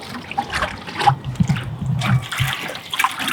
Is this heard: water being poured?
yes